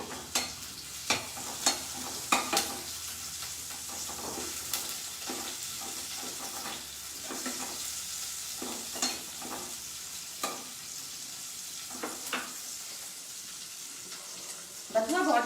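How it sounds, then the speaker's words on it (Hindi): Ginger and green chilies sizzle in a hot pan in a home kitchen, a steady frying hiss broken by repeated stirring scrapes and taps, close and clear, with no talk over it. "सबसे पहले मैं इसमें डालूंगी अदरक और हरी मिर्च।"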